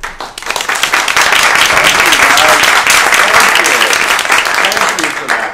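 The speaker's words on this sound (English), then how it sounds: "Please give a very warm round of applause for Adam Strauss." A comedy club audience claps for a comedian at a live stand-up show, a loud, dense burst of applause that swells quickly after a brief start and holds steady throughout.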